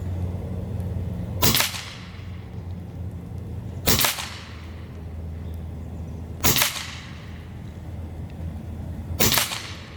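Four sharp air rifle shots from an Avenge-X micro bullpup PCP firing 15.89-grain JSB pellets, evenly spaced about every two and a half seconds, each a crisp crack over a low steady background hum.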